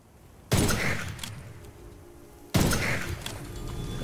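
Two heavy gunshots from the video game Witchfire boom about two seconds apart, each a sharp loud blast followed by a rumbling decay, with no speech.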